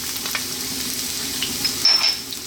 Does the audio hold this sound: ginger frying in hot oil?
yes